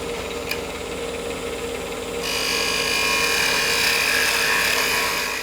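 A wood lathe spins a finial for a sea urchin shell Christmas ornament with a steady whirring hum, and a louder scraping cut begins partway through as the gouge bites into the wood.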